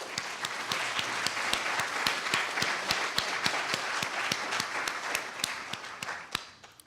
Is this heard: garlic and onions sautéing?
no